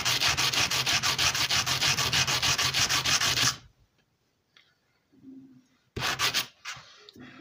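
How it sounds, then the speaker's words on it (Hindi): Sandpaper rubbed back and forth over nickel strips on an emergency light battery, giving a loud, rapid rhythmic scraping for about three and a half seconds, then quiet, then another short burst of rubbing. "सैंड पेपर की मदद से मैं इसको यहाँ पर थोड़ा सा फिक्स करता हूँ"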